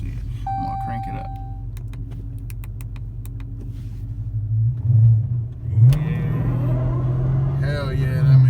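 Chrysler 300S engine fitted with a throttle response controller, steady idle rumble swelling into a couple of short revs, with someone talking over it.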